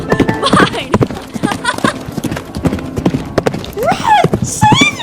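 Horses gallop with loud, rapid clip-clopping hooves in a school drama club stage play, an animated whinny rising near the end, with excited shouting voices over the hoofbeats throughout.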